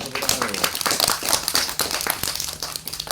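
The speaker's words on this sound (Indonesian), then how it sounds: "tepuk tangan dulu." Young children at a firefighter education session at an Aceh foundation clap their hands together in a dense, crackling burst of claps lasting a few seconds, with voices mixed in.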